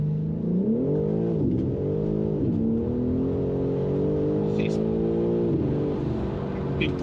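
BMW G82 M4 xDrive engine from inside the cabin on a wet, leaf-strewn road, a steady loud drone that rises and falls with throttle, with voices talking over it.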